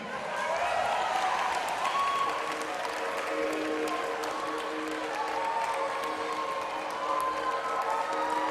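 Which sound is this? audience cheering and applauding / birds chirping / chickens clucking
audience cheering and applauding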